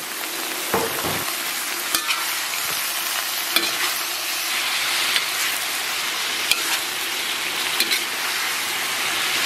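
Pork belly stir-fries in a wok with scallion, ginger, garlic and caramelized sugar, a continuous close sizzle broken by scattered sharp clacks of the spatula stirring.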